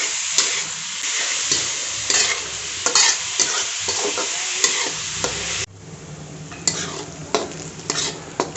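Onion frying on a high flame in a dhaba-style whole masoor dal preparation, stirred with repeated scrapes and clatters over a steady, loud sizzle that drops to a quieter hiss partway through.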